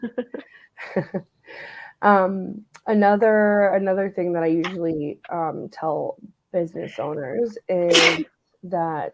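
A single sharp sneeze lands near the end of a stretch of steady conversational speech, loud and close, with talking continuing around it.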